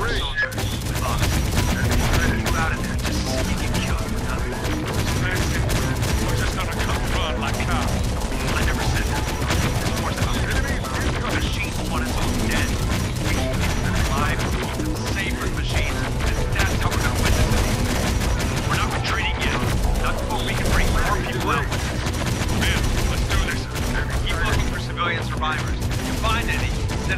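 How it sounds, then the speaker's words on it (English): Continuous enemy gunfire in the game Terminator Dark Fate Defiance, a dense, unbroken rattle of shots and battlefield clatter running loud throughout, with speech faintly mixed in. "Incoming enemy fire."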